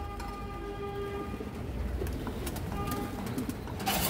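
A short-beaked old-line pigeon coos softly amid a steady low rumble of background noise, with faint repeated calls and a brief brighter burst near the end; nobody speaks.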